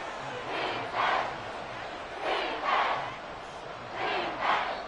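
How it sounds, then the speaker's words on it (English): The Arrowhead Stadium crowd in Madden 24 roars in three swelling waves, each surge rising and fading over about a second, loud and broad against a steady background murmur. "The Arrowhead crowd in full roar."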